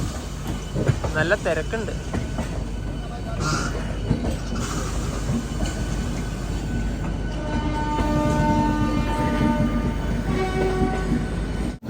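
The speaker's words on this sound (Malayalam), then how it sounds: "കൊൽക്കത്തയിലെ ലോക്കൽ ട്രെയിൻ" Kolkata local train rolling along with a steady rumble and rail noise throughout, brief tonal horn-like bursts near the start, and a person talking over it in a busy, crowded setting.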